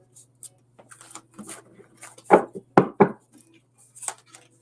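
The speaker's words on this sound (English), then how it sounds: "Thought I shuffled these cards good." Tarot cards being shuffled during a live reading, a run of soft papery riffles and taps with a few sharper slaps of the deck near the middle, close and fairly quiet, with no talking.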